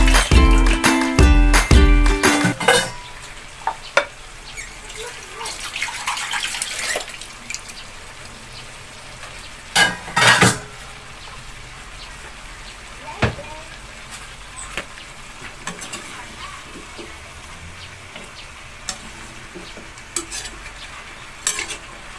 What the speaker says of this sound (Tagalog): Ihalo na rin natin guys ang pinutol-putol na sitaw para sabay silang maluto ng ating kalabasa.